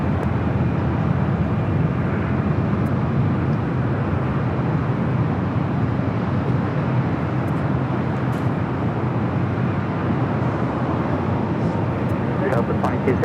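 An Air France heavy jet takes off from runway 24 left at LAX, a continuous broad, loud roar of engines and rushing air holding steady throughout, with faint scattered clicks near the end.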